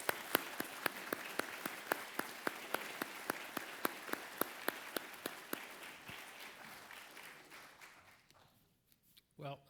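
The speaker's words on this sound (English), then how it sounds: "let's give a round of applause to our panelists" A naval strategy conference audience applauds its panelists with steady, evenly spaced claps that thin out and fade toward the end, fairly distant in a large hall.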